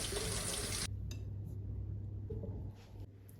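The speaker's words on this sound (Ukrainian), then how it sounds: "І полочимо їх під протічною водою." Fresh tomatoes rinsed under running tap water in a home kitchen: a loud, steady rush of flowing water for about a second, then a quieter continuous trickle over a low hum, with no talking.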